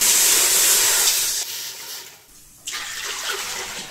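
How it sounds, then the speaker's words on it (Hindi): Water runs in a strong hissing stream into a large cooking pot for rice, loud and close. The flow cuts off briefly partway through, then resumes just as loudly. "एक बड़े पतीले में मैं पानी शामिल कर दूंगा।"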